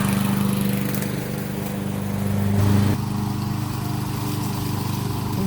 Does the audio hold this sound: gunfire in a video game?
no